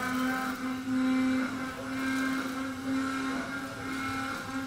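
Steady high-pitched machining whine from a Tungaloy high-feed milling cutter working metal, loud and continuous, with a strong sustained tone and grinding texture that swells slightly partway through.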